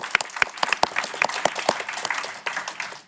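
An audience claps for a speaker being welcomed on stage at a live event on safe AI innovation: a room of scattered, fairly close hand claps that thin out toward the end.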